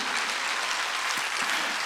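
A church congregation applauds during a Sunday worship sermon, a steady, dense wash of many hands clapping together, sustained and fairly loud throughout with no voices standing out.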